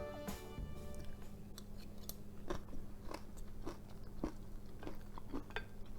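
Crunchy bites and chewing of a spicy Thai cucumber salad with crispy fish, a steady series of close, crisp crunches roughly every half second, no talking.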